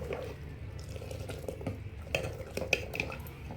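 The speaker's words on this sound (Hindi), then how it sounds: "और इसको एक बार मिला लूँगी।" Spices are stirred into kadhi in a pot, with a spoon scraping and clinking against the metal in soft, irregular strokes over a low background of kitchen sound, close by.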